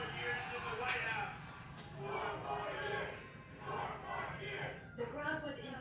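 A crowd at a Trump rally cheers and shouts in rising and falling waves, distant and fairly faint, with voices mixed into the roar.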